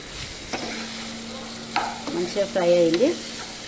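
Broad beans fry in oil in a pan for a chikkudukaya curry, giving a soft continuous sizzle. A few sharp stirring clicks and scrapes land near the end.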